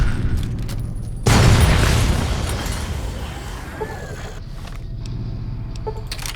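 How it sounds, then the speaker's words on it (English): A plasma grenade explosion in Fallout: New Vegas sets off a sudden loud boom that decays into a long rumbling wash of game noise. "Plasma grenades, plasma grenades, plasma grenades."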